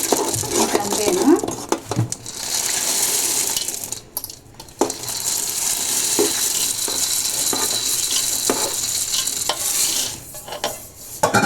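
A spoon scrapes and stirs roasted peanuts through thick jaggery syrup in a pan, with a continuous sizzling hiss and intermittent scraping knocks throughout, close and fairly loud, with no speech.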